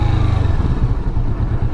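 Engine of a 2016 Kawasaki Vulcan S motorcycle running steadily in first gear, a loud close low rumble with a constant throbbing pulse and no talking.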